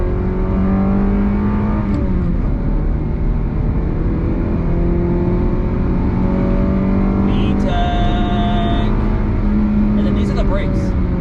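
A car engine pulls from a rolling start, loud and close, with a continuous drone and shifting harmonic pitch that climbs and settles across the run, plus a few brief higher tones near the end.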